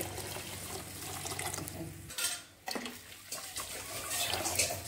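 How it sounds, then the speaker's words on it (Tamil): Water splashes and pours into a pot of rice for cooking, running steadily for about two seconds, pausing briefly, then resuming in shorter gushes, close and fairly quiet. "ஒரு கப்பு அரிசிக்கு ஒரு பெரிய செம்பு"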